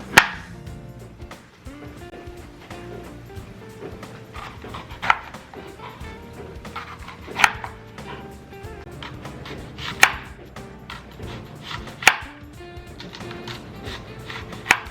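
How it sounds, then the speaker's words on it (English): Bell pepper and onion being chopped with a knife on a cutting board, with steady rhythmic chopping and sharper board knocks every couple of seconds, close and loud throughout. "we are going to chop up 1 bell pepper and 1 small onion."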